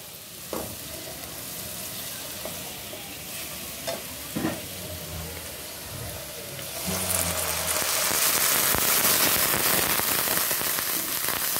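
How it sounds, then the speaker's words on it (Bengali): Papaya frying in a pan with ginger and oil sizzles with intermittent stirring knocks, then water is poured in and a louder, denser hiss and bubbling takes over for the last several seconds. "দেখো আমার পেঁপেটা খুব সুন্দর করে ভাজা হয়ে গেছে। আমি এখন জল দিয়ে দিব।"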